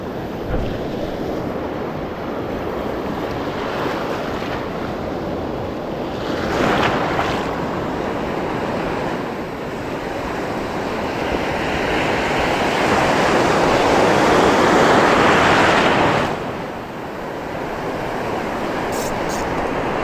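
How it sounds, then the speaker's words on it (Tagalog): Heavy ocean surf crashes and washes in surging swells during shore lure fishing, loud and close, with wind buffeting the microphone throughout. "Malakas ang alon."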